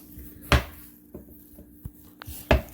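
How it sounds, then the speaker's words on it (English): Knife dicing food on a board for a hash brown casserole, a few sharp separate chops spaced irregularly against a quiet kitchen background, close and crisp. "We just gonna get this diced up the best way we can."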